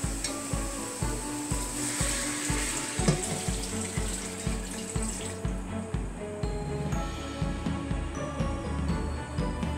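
Stew liquid pours and splashes into a pot of chicken over a rhythmic, repeated low thumping, then the pouring stops and the splashing settles.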